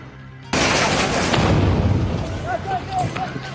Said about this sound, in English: A fireball over Beirut after a fresh wave of intense Israeli airstrikes on its southern suburbs.